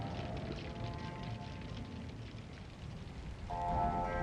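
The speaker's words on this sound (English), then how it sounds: "Ominous clouds, torn apart, unleashing a torrent of rain." Storm rain pours in Monster Hunter Rise: Sunbreak as a steady, dense hiss with a low rumble beneath, swelling louder near the end, with no voices.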